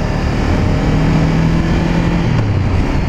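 A Honda CB500R motorcycle accelerating in town, its engine loud and close with a steady rising drone throughout.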